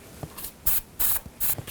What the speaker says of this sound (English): I'm just going to use some rust penetrant. Spray those down, let them soak for a little bit.